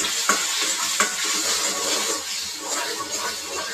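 Brinjal bharta masala stirred in a frying pan, a steady close sizzle with spoon scrapes and a couple of sharper knocks against the pan, no talking.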